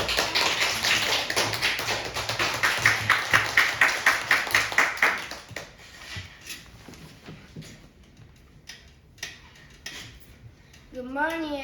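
Students clap at a Grade 4 speech contest in a classroom, a brisk rhythmic burst of hand claps for about five seconds that then thins to scattered taps and light background noise.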